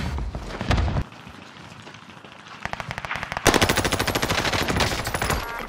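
Call of Duty gunfire in the Caldera resurgence battle royale mode: a quiet stretch, then a scattered volley, then a loud sustained burst of rapid automatic fire that rattles close up near the end.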